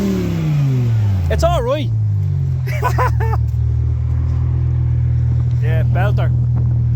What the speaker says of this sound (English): That's it, the loud car leaving. Absolute pops and bangs out.